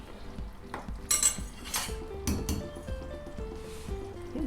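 A ladle stirs shakarpara dough in a pan over a low flame, with soft scraping strokes, occasional metallic clinks against the pan and a faint sizzle underneath, heard close with no talking.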